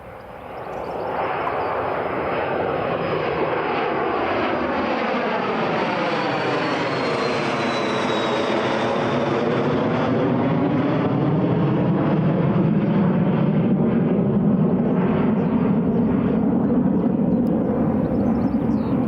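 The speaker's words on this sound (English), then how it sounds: "There goes the Phenom." Embraer Phenom business jet taking off at Newcastle International Airport, a loud steady jet engine roar that swells and holds for the whole stretch, heard from nearby.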